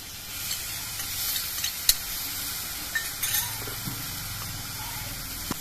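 Ginger paste being stirred in a hot frying pan while cooking a hill-style mixed vegetable dish: a steady sizzle with soft scraping strokes and a few sharp clinks of the utensil against the pan, close and fairly quiet.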